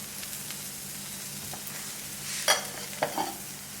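Sopes crisp in a hot pan, a faint steady sizzle with a couple of brief louder crackles and stirring scrapes near the middle, no voices.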